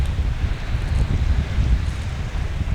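Steady wind buffets the microphone on a sandy beach before dawn, a continuous low rumble with gusty fluctuations and no voices.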